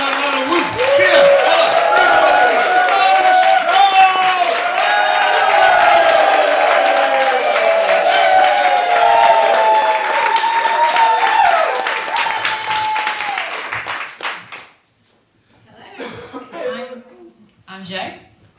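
A comedy show crowd at a Laugh at Leeds grad show claps and cheers in a sustained loud wave with whoops and shouts on top, then the applause cuts off and a voice begins speaking.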